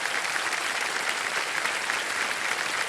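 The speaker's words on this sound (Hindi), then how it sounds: "एक बार इनके लिए भी ताली बज जाए।" A studio audience on the TV quiz show Kaun Banega Crorepati applauds a contestant, dense continuous clapping from a large crowd, even and steady for the whole stretch.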